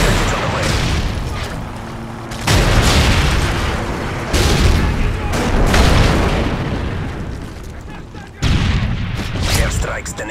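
Airstrike explosions rumble through a Modern Warfare 3 Search and Destroy match, a string of loud, dense booms arriving in heavy bursts that swell and fade one after another over about ten seconds.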